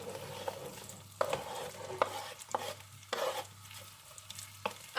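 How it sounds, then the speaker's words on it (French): Potato pieces fry in a mix of butter and oil over high heat for a tartiflette, with a soft continuous sizzle broken by several scraping stirs of a utensil through the pan, close up and without talk. "un mélange de beurre et d'huile, on ne lésine pas, à faire revenir nos pommes de terre."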